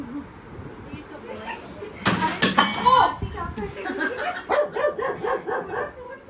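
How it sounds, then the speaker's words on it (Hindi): A dog barks in a home during a Sai Baba celebration, giving a quick run of short yips and barks in bursts, close by, while people talk over and around it. "देख देख उसके आगे भौंक भी दे रहा, देखा आरती देख।"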